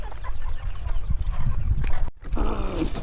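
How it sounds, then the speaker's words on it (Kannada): Chickens cluck on a village farm in North Karnataka, with short scattered clucks over a rough, noisy outdoor background. "ಕೋಳಿ ಎಲ್ಲ ಸಾಕಿರಣ್ಣ ಕೋಳಿ ಅದಾವ ನೋಡ್ರಿ"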